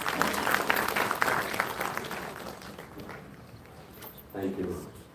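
Applause from a conference audience in a hall, loudest at the start and fading over a few seconds as a voice speaks over it.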